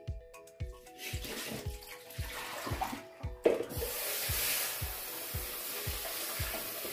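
Water poured over black-eyed peas in a deep bowl for washing: a series of soft rhythmic thumps, then a steady rushing splash of pouring water over the second half, close and moderately loud.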